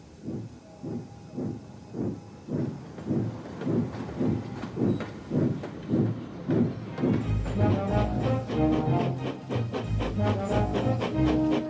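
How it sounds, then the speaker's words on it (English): A TOMY toy Thomas & Friends steam engine pulls slowly out of a station with evenly spaced chuffing puffs, which grow louder and denser midway as tonal whistle-like sounds join in. "With the children safely on board, Gordon pulled slowly out of the station."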